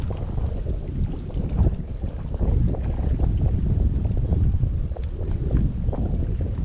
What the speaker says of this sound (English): Oh, it's a bit windy now.